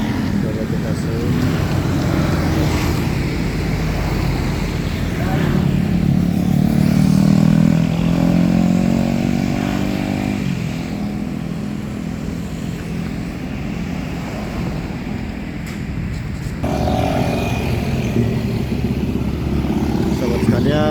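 Motorcycles ride into the motorbike entrance of the parking area at Trans Mall in Tanjung Bunga, Makassar, with a continuous crowded engine buzz and passing revs, and someone speaks over the traffic noise.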